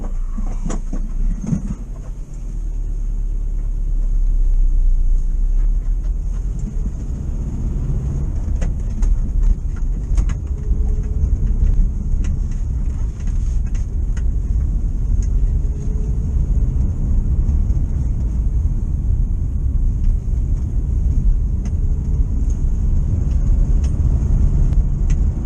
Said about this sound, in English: we'll just give the old bus a little run round the block